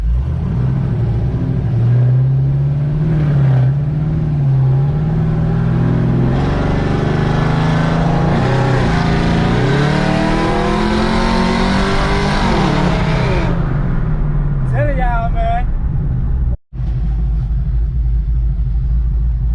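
A Mustang and a G8 GT accelerate hard in a 30 mph roll race, engines roaring loud and close as revs climb and shift in rising sweeps, then the noise cuts to a steady rumble near the end.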